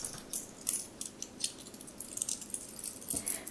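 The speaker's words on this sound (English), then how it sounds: "I like the way these coins sound." Copper tarot coins clink and jingle against one another in quick, light bursts, close up and fairly quiet, with no talking.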